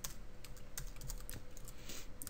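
Quiet, rapid keystrokes on a computer keyboard while Java code is typed, a close, continuous patter of light clicks with no talking.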